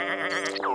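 A single short, wavering sheep bleat, close and clear, with no other sounds around it.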